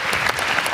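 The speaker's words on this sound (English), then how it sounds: "I think she's entitled to a round of applause for this idea" A conference audience at a start-up competition awards ceremony claps, a dense, continuous wash of applause from a full room.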